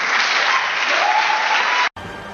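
Thunderous applause from a large crowd, a dense and loud wash of clapping that cuts off abruptly near the end and gives way to quieter sound.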